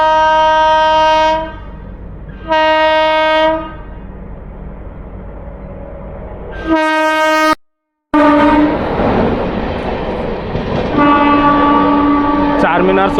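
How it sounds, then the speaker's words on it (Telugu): A superfast express train pulls out of a station with several long, loud horn blasts over a heavy rolling rumble, with the horn sounding again near the end. "ఆ ట్రైన్ ఇంకొప్పుడు మెల్లిగా డిపార్చర్ అవుతుంది."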